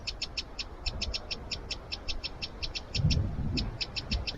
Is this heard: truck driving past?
no